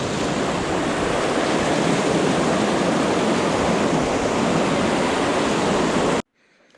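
Rushing water of the Pacuare River roars as a dense, steady wash close by, loud and unbroken for about six seconds before cutting off abruptly to near silence.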